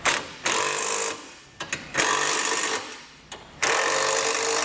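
A power tool, likely an impact driver, tightens down hardware on a Roadmaster crossbar-style base plate kit on a 2016 Nissan, running in three loud whirring bursts separated by short pauses and small clicks, with no talking.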